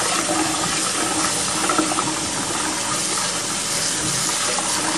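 Brown rice being rinsed in water in a pan, a steady close sloshing and running-water wash that continues evenly without pause and with no talking.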